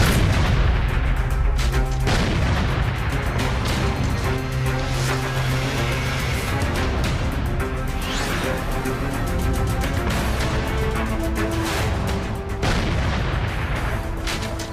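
Heavy explosive blasts during a security forces encounter with militants hiding in a house in Pampore, Kashmir; loud, dense booming and rumbling runs throughout, with sharper bursts standing out near the start, middle and end under a steady tonal layer.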